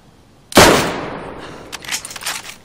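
A single loud gunshot in the video game DayZ, played on Xbox, cracks sharply and then rings out in a long decaying echo, followed by faint scattered clicks and rustles.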